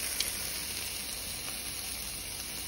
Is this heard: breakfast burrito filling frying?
yes